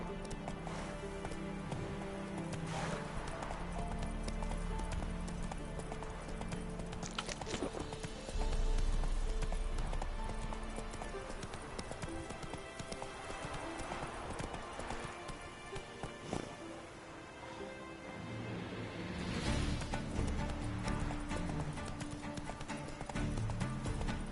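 Horse hooves clip-clop steadily in a PS4 video game, a continuous rhythmic trot at moderate loudness over a soft game ambience.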